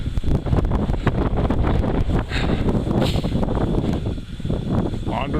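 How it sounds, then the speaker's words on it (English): Wind gusts roar and buffet the microphone in a snow squall on a ledgy mountain trail, Mt Roberts in New Hampshire, with a steady loud rush throughout. "Caught in a snow squall."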